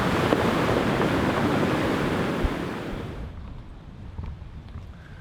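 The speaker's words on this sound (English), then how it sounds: "get some shots of these ugly waves over here" Ocean waves roll and wash at Shipwreck Beach on Kauai, Hawaii, with a loud broad surf roar and wind buffeting the microphone that fade to a quieter wash partway through.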